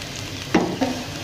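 Ingredients fry in hot oil in a kadai for hilsa khichuri, giving a soft, steady sizzle. Two quick, sharp stirring scrapes sound close by, a fraction of a second apart.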